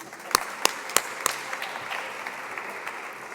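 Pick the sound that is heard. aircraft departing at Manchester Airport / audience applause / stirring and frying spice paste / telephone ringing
audience applause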